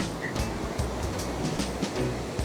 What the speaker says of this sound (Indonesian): Ternyata di sini ombaknya kenceng, udah bukan lumayan tapi kenceng nih, kalian harus lihat ombaknya.